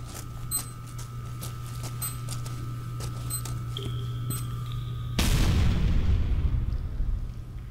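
A dynamite blast in the game Infra hits suddenly after a stretch of quiet hum and ticks, a loud low boom that rumbles on and slowly fades.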